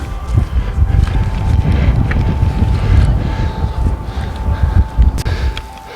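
Strong wind on an open riverside walk along the River Ouse between Southease and Newhaven buffets the microphone with a continuous low roar and uneven gusts, with no one talking.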